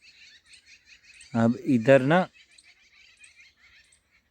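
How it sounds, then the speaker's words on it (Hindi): Small birds chirp near a farm field, a string of faint, quick chirps scattered throughout, while someone speaks briefly in the middle. "पक्षी, छोटे की चिड़ियाँ बोल रही हैं"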